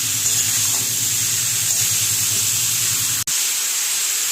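Calabash and prawns with a teaspoon of turmeric sizzle and hiss steadily in a frying pan on a gas stove, heard close with a faint rhythmic low rumble beneath, ending in a sharp cut near the close.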